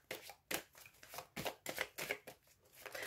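Tarot cards handled and laid down during a reading: a series of soft, close papery slaps and flicks in an uneven rhythm, about nine quick strokes, with no voice.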